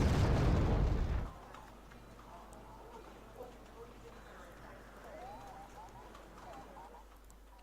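A bomb detonating in the real-time strategy game Wargame: Red Dragon hits as one loud, heavy blast lasting about a second, then drops to faint distant rumble and battle noise while someone talks quietly.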